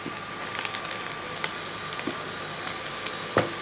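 Sliced okra sautéing in a pan, a faint, steady sizzle with scattered crackles and one louder stirring scrape near the end.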